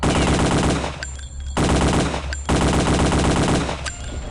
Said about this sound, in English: Okay, got him with the Tommy gun.